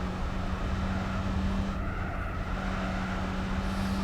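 Racing car engine in Gran Turismo 4 on a course near El Capitan, a steady sustained drone with an odd, buzzy tone, loud and continuous throughout with no voices.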